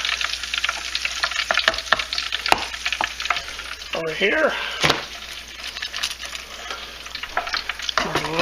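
McDonald's french fries frying in hot oil, a steady bubbling sizzle running throughout with scattered clinks and knocks of the basket and metal, and a voice speaking briefly partway through.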